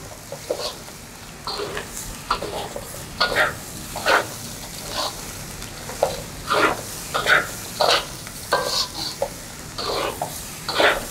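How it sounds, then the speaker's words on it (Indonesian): Food sizzles steadily in a pan, likely rice fried with pepper and no added water, while a utensil scrapes and stirs in irregular bursts, close up, with no talking. "Nah, diaduk lagi."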